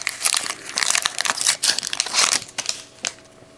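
A foil pack of 2013 Crown Royale football trading cards is torn open by hand, giving close, busy crinkling and crackling bursts that fade out near the end.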